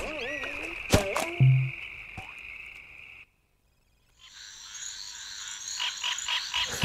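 Frog croaks from the Princess and the Frog video game, short croaking calls near the start over game music, then a brief silence and a brighter stretch of game sound.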